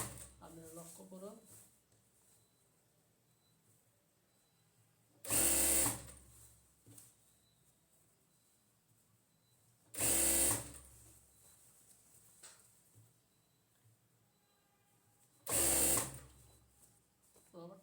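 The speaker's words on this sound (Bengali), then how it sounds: "রবারটের নিচ দিয়ে সেলাই দিতে হবে" Three short, loud bursts of a sewing machine stitching below the elastic band of a palazzo pajama, spaced several seconds apart, with quieter handling and a voice talking in the gaps.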